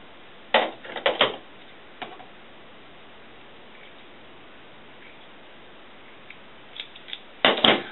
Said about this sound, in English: so now I'm going to cut off the beginning part